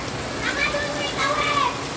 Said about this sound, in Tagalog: Tuloy-tuloy pa rin po ang klase kahit na po tayo ay napakalakas po ng ulan ngayon.